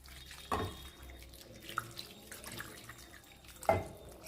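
Water splashing and trickling into a pot of mango pulissery, with a quiet running pour and small splashes peaking near the start and again near the end; no voices.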